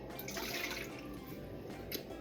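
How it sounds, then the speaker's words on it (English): Warm water pours steadily into a mixing bowl, a continuous soft splashing trickle that runs without a break for about two seconds, close and fairly quiet. "we're going to start off with some warm water in a mixing bowl"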